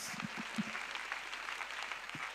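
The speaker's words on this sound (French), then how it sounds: "Let us clap for Jesus." A congregation claps together during a church prayer and intercession gathering, a dense, steady patter of many hands filling the room at moderate volume with a faint voice underneath.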